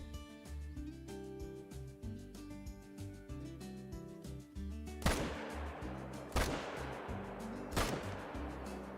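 Three loud rifle shots ring out at a deer in a Mississippi whitetail hunting video game, spaced about 1.5 seconds apart, after a stretch of game ambience and music.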